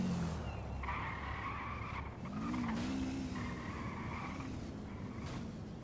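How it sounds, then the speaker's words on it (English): Tires squeal from a car in GTA V roleplay, a few sustained screeches rising and falling over a steady engine rumble and road noise, fairly close and with no talk. "All the tire squealing he's doing is freaking me the fuck out."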